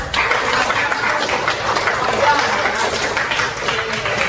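Classroom applause from students in a vocational machining workshop lesson, a steady dense patter of many hands clapping continuously throughout at moderate loudness.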